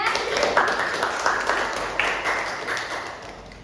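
Students in a classroom clapping for a presenting group during a teaching practice lesson, a short burst of dense hand claps that gradually fades.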